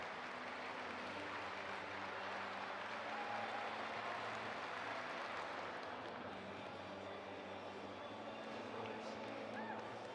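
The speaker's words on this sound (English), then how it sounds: "Getting a clap going. This is a fast clap." A crowd in a track and field stadium claps in a steady fast rhythm, a dense continuous patter filling the venue, under a faint background hum, with no talking.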